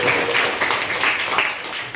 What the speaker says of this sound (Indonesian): Tepuk tangan buat Anita